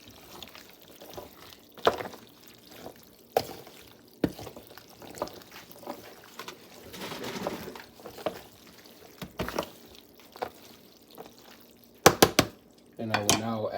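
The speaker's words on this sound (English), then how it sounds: "I will now be adding evaporado leche, which is evaporated milk. Then stir it up." Evaporated milk poured into a pot of homemade mac and cheese and stirred in, giving soft liquid pouring and scattered scraping, clattering stir sounds up close, with a few louder knocks near the end.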